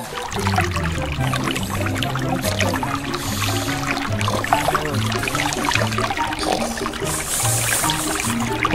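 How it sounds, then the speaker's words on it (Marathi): Water pours continuously, flooding a house, with a steady splashing rush, loud and close, with no voices. "पाणी सगळं घरात पाणी झालं"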